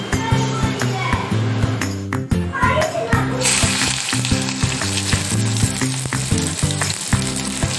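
Spice paste sizzling with fried potatoes in a pan, a loud crackling fry with rhythmic stirring and utensil knocks, and voices talking in the background.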